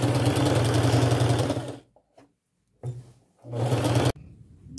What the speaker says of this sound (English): sew along that black line two times to make it extra durable